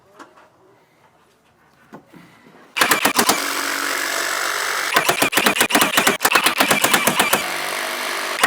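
A nail gun fires into soffit boards in rapid bursts of sharp, loud clacks over a running air compressor's steady drone, after a quiet stretch of soft handling noises.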